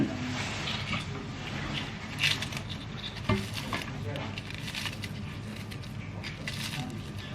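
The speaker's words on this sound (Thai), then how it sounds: "เพราะว่าฝนตก รู้ว่าฝนตกแต่ไม่ต้องวิ่งเดี๋ยวมันลื่น" Steady rain pattering outdoors, a dense continuous patter with a few louder drips and knocks, moderately near, with faint background voices.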